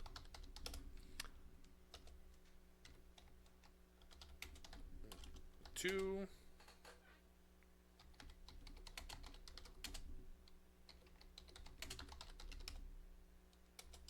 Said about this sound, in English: Am I typing?